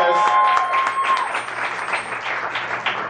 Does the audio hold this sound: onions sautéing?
no